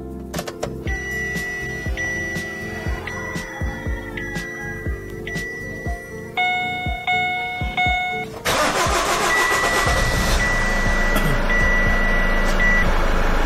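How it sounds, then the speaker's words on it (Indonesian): A Chevrolet Captiva engine cranks several times in clicks and whirs, then catches and settles into a steady, loud idle, with a few electronic beeps along the way. "Sekarang kita hidupkan mobilnya."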